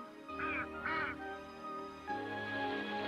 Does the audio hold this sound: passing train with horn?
no